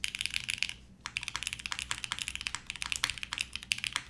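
Rapid, crisp keystrokes on a polycarbonate Kohaku keyboard with GMK keycaps, aluminum plate and TX stabilizers, forming a dense close-up clatter with a brief pause near the one-second mark.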